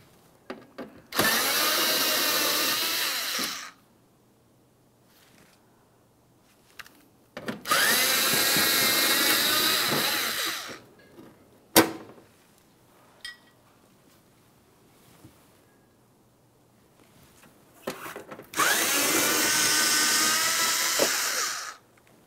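Power tool backing out mounting bolts during a camshaft position sensor job on a 2015-2020 Ford F-150 3.5L V6: three sustained, whining drill-like bursts near the mic, separated by quiet gaps with a short click between.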